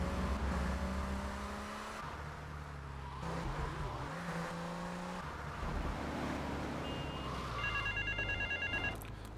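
A payphone rings in the Grand Theft Auto mod Frosted Winter, its repeated electronic trill rising in the second half of the clip over a steady rumble of car engine and game ambience. No one speaks.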